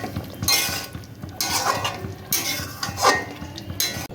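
A utensil stirs chalta (elephant apple) pickle spices in a pan, making repeated scraping and clinking strokes in an uneven rhythm, close and moderately loud, with no talking.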